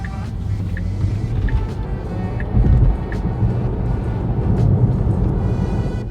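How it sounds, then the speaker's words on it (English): Inside a Tesla Model 3 under acceleration, a steady rush of wind and tire roar on pavement holds throughout, with low rumble and slight swells in loudness and no motor whine standing out. "All you can hear is the sound of the wind and the tires on the pavement"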